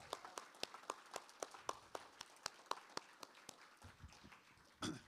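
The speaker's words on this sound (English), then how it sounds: "Let's keep clapping for Sarah Schulman." Audience clapping after a faculty reading, faint and sparse, with distinct individual claps landing in a quick, fairly regular rhythm rather than a dense roar.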